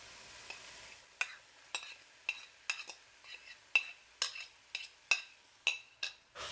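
Vegan plant-based saltfish stirred into sautéing vegetables in a pan, a spoon scraping and clinking in a steady run of about a dozen strokes over a soft sizzle.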